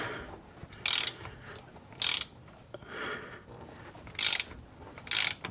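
A ratchet removing bolts on a Mercedes W210 wagon, rapid clicking bursts of ratcheting repeated four times at close range, with quieter turning between them and no talking.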